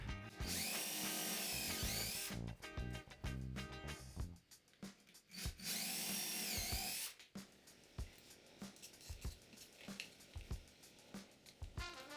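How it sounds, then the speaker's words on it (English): A power drill boring two holes into a lid: two distinct high-pitched whining runs of the drill, each lasting a couple of seconds, separated and followed by handling clicks and rubbing of parts, close up. "We drill 2 holes and attach this to the lid."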